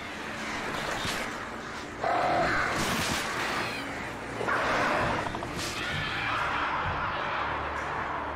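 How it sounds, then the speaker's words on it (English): Crows caw repeatedly in Alan Wake Remastered, the harsh calls rising in bursts over a dense game ambience of wind and background noise, with a brief stretch of speech-like sound. "Dumb birds."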